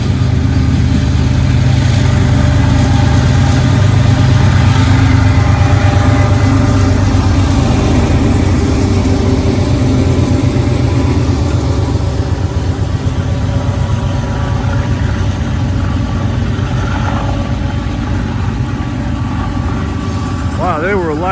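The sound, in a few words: coal train locomotives working hard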